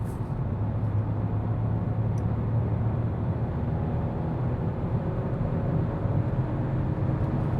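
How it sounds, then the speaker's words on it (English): Steady, loud engine and road drone from a small turbocharged Hyundai i20 hatchback accelerating from highway speed, with a continuous low rumble and broadband wind and tyre noise that hold constant throughout, no voices. "When we start at 100 kilometers or 60 miles an hour and accelerate."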